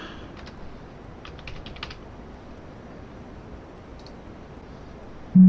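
Soft keystrokes on a computer keyboard while entering a new password, a few quick clusters of taps close by, then quiet room tone and a short low tone at the end.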